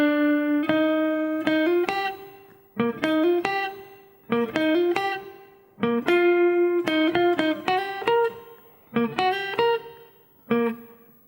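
Clean electric guitar plays a solo lick, a series of bright, distinct picked notes and short phrases with brief gaps between groups, heard alone with no talking.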